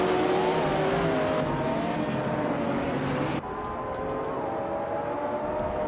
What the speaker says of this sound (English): Cap'n Trippy is driving a 1999 Pagani Zonda C12 Bosch 2